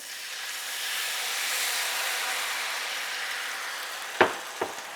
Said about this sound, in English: the first thing I'm going to put in is the wine. It's kind of going to deglaze this a little bit.